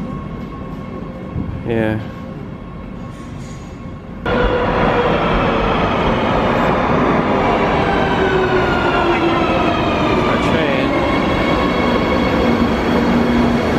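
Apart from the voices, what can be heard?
train departing station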